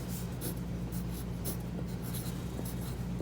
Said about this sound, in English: And now on the inside, you write your message.